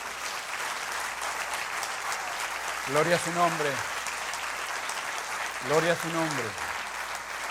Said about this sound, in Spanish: Dele un aplauso al Señor Jesucristo.